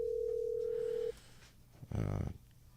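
A phone call rings out on the line as a steady, loud single tone for about a second, followed by a short, muffled burst of sound as the call reaches voicemail.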